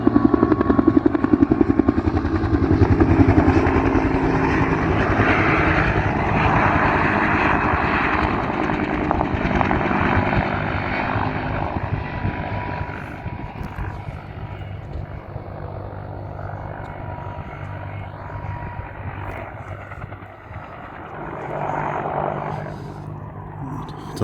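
A firefighting helicopter thrums overhead during a wildfire south of Olympia, Washington, its rotor beat loud at first then slowly fading before rising again, heavy and continuous.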